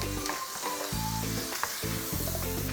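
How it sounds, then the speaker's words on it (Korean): Scallops and shrimp stir-fry loudly in a hot pan with doubanjiang, oyster sauce and minced garlic, a constant close sizzle swelling in waves as the food is stirred and tossed. "그리고 다진 마늘 넣어서 볶아주십니다. 자, 그래서 해산물을 먼저 한번 1차로 볶아서 익혀주세요."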